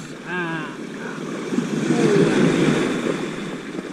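Choppy sea waves roll and wash along Maragondon Sanctuary Beach in Ternate, Cavite, a continuous rushing surge with wind buffeting the microphone and a brief voice at the start.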